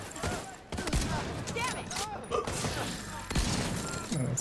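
Bursts of light machine gun fire in an online shooter game, rapid volleys and sharp reports with game sound effects around them; a voice talks intermittently over the gunfire.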